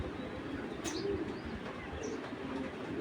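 Pigeons coo softly in the background, with a brief chirp and a faint flutter over a steady, noisy ambience.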